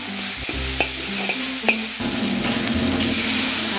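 Chopped taucu bean paste stir-fries in hot oil in a wok, a close, bright sizzle broken by a few sharp spatula clacks and scrapes, with no voices.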